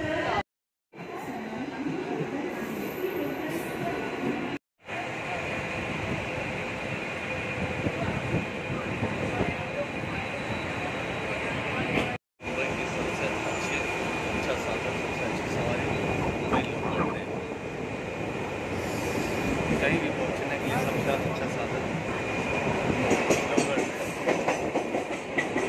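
A suburban train runs through Ram Mandir railway station in Mumbai, a loud continuous rumble with clattering wheels on rails and a rising roar across the whole stretch, heard from on board or close by with brief cuts.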